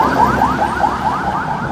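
Ambulance siren wailing nearby on a street in Barrio Barretto, a loud, repeating rising-and-falling electronic tone cycling about every fifth of a second, heard alone.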